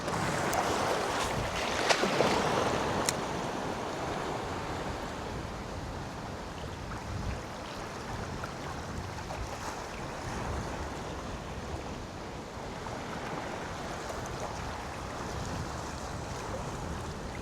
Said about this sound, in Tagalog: Grabe ang hangin sa laot guys.